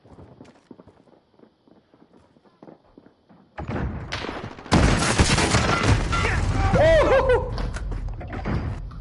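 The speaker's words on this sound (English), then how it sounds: "Reloading." Weapon reloading in Call of Duty Modern Warfare multiplayer gameplay: after a quiet stretch, dense game noise swells in, with dull mechanical thunks and clacks of the reload sitting inside a loud, busy mix.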